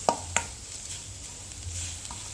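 Masala sautéed in oil for a mushroom and peanut gravy, a low sizzle under a few sharp spoon knocks against the pan at the start and end, quiet and close.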